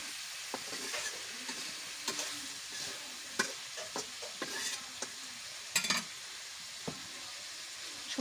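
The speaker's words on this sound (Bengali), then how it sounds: "কথা বলতে বলতে মাংস, মশলা, আলু সুন্দর করে কষায় নিয়েছি" Duck meat, spices and potatoes being stir-fried in a pan, with a steady low sizzle under repeated scraping strokes and light clinks of a utensil against the pan, fairly quiet and close.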